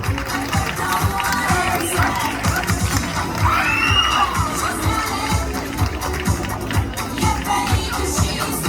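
An audience at a Miss Pin-Up vintage pageant claps and cheers as a contestant walks onto the stage, a dense, continuous wash of applause with shouts and whoops mixed in.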